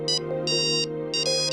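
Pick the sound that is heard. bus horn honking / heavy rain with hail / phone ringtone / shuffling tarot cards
phone ringtone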